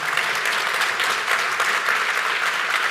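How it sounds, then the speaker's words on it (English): Audience applause for two panelists at the close of a leadership panel, a dense, steady wash of clapping filling the whole stretch with no speech over it. "Give our two panelists a round of applause, please."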